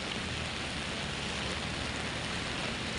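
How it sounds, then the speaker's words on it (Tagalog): Steady outdoor rain falling in the Philippines, a dense, even hiss of drops hitting surfaces and an umbrella, continuous and fairly close with no voices. "Ulan na nga sa labas"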